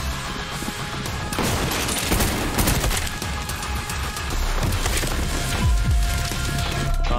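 Dense, sustained gunfire from a first-person shooter game, Trepang2, with overlapping rapid shots and booms filling the whole stretch, loud and continuous with no talking.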